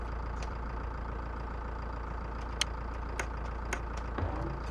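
A tractor engine idles steadily in the Pure Farming 2018 farming game, a low continuous rumble with a few faint clicks over it.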